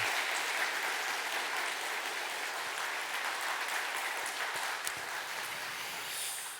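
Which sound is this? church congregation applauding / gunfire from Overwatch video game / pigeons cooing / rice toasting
church congregation applauding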